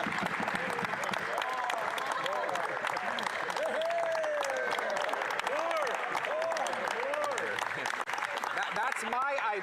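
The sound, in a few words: audience applause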